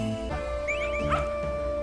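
A small cartoon dog character in Yo-kai Watch 4 gives a couple of high, yippy barks over steady game music, bright and close, lasting under two seconds.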